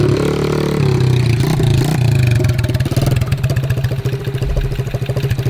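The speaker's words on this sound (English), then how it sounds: "It's a shifter mini bike." A 1970s Scat Cat four-speed shifter mini bike engine runs up close, a loud steady drone that breaks into a choppy, pulsing idle in the second half; no talking.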